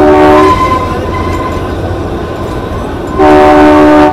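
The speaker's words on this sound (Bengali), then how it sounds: "ট্রেন কিন্তু এইরকম আঁকা বাঁকা পথে এগিয়ে চলেছে শিমলার উদ্দেশ্যে" Train on the Kalka–Shimla hill railway winding along its curving track, a loud steady rumble of wagons with two blasts of the horn, one at the start and one near the end.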